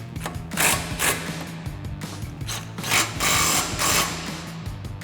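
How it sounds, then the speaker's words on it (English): A hand ratchet with a 12 mm socket tightens bolts on the front strut and spring assembly of a 2005–2009 Mustang GT, giving close, rapid clicking bursts in a repeating rhythm. "Now we'll tighten these back down with our 12 millimeter socket."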